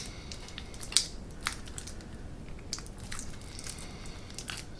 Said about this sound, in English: I'm going to unwrap this real quick.